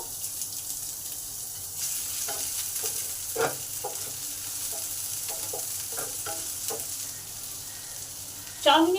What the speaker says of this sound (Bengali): পেঁয়াজটাকে দিয়ে দিলাম এটাকে ভালো করে ভেজে নেবো